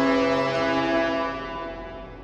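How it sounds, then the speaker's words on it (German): A submarine horn in the naval game World of Warships, one long electronic-sounding tonal blast with a buzzy harmonic tone that holds steady and then fades slightly toward the end. "Mit der Hupe von U-Boot. Das hört sich so elektronisch an."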